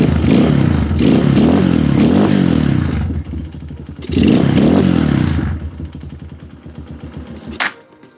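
A small pit bike engine idling low in a garage, rough and clattery, loud and close; it bogs and fades briefly, picks back up, then sputters down with a sharp pop near the end.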